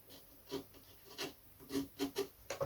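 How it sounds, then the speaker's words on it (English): Sandpaper rasping over the edge of a wooden part for a vintage Lunak aerobatic model glider, in several short back-and-forth rubs that quicken toward the end, close and alone. "just want to get it going, then I can sand the edge off."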